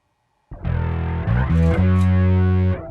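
A guitar run through a pedal set for an organ-like synth tone, a thick, buzzy, distorted chord phrase that swells and shifts pitch before sustaining, loud and close with no talk.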